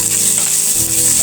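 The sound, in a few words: frying ingredients for Bengali vorta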